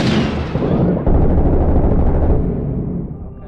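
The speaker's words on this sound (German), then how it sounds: "Ich werf mal eine Granate rein." Grenade detonation in the video game Six Days in Fallujah, a loud booming blast with a heavy rumbling tail that swells after a second and slowly fades over a few seconds.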